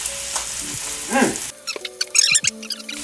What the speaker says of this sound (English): now that you've got a good sear on one side, I'm going to go ahead and give it a good flip